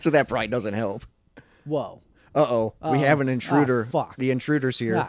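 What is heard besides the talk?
No distinct noise like a dog, phone or traffic.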